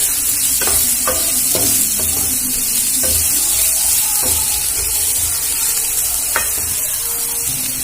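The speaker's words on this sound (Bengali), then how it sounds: "পেঁয়াজটা আমি অর্ধেক ভাজবো, একদম পুরো ভাজবো না।" Onions fry in a pan with a constant close sizzle, while a spatula scrapes and knocks against the pan in irregular strokes throughout.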